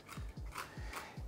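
Knife roughly chopping dry roasted peanuts on a board, four quick repeated thuds with crunchy scraping in an even rhythm, close and fairly quiet, with no talking.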